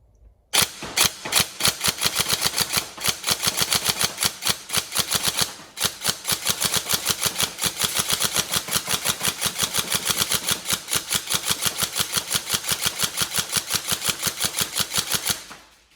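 An upgraded Tokyo Marui M4 NGRS airsoft electric gun fires long, fast bursts of snappy mechanical shots with a whirring motor underneath, close and loud, with one brief pause partway through.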